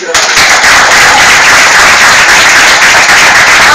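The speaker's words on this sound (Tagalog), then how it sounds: "Salamat po sa palakpak." Loud, dense audience applause fills the room, a sustained roar of many hands clapping close by with no pauses, beginning abruptly after a brief quiet moment.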